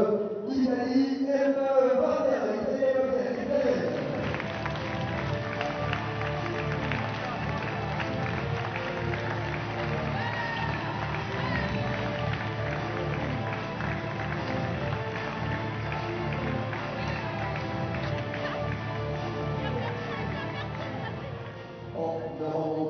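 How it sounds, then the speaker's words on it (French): A large crowd applauds and cheers as the Italian team enters the arena at a TGI 2024 qualification event. The clapping is steady and sustained, with a loud announcer voice over it at the start. "sous vos applaudissements, l'équipe d'Italie"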